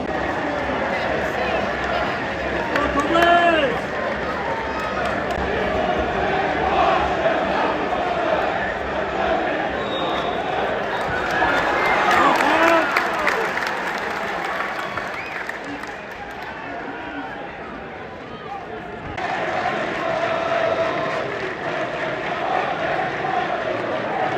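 A stadium crowd of Northampton Town football fans chants and cheers in rolling swells, a dense, echoing mass of voices that rises and dips throughout.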